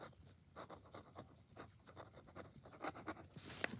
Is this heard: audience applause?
no